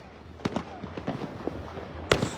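New Year fireworks set off by neighbors pop in the distance: scattered faint bangs and crackles over a quiet background, with a sharper, louder burst near the end.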